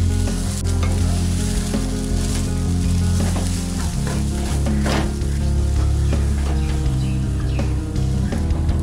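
A mixture of chopped coriander, lemon juice and other ingredients sizzles steadily in a pan and is stirred, giving loud, continuous frying with scraping stirs scattered throughout and no talking.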